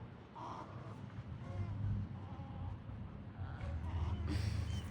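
Large birds that look like herons call near a home, giving a few hoarse, croaking caws spread across a few seconds over a quiet outdoor background.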